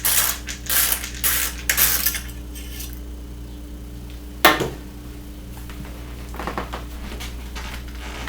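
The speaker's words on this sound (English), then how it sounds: "What I just did is I just took the two screws." A Minuteman CPE1000 UPS is opened for a battery change, producing close metallic ratcheting and clicking as screws come out, a sharp clunk midway, then quieter scraping handling noises.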